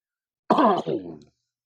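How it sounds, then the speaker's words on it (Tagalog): A single close cough, followed by a short throat-clearing rasp, then silence. "Mukhang inuubo-ubo na ako."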